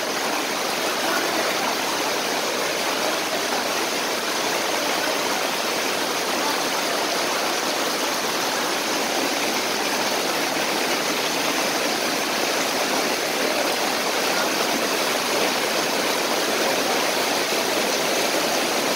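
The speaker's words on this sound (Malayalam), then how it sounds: "കടലിൻ്റെ ഉള്ളിലേക്കാണ് വെള്ളം പാഞ്ഞു കയറുന്നത്" Floodwater rushes in a steady, loud roar after heavy rain in Vengad, with the risen water covering homes and surging toward the sea; the torrent stays unbroken and close throughout.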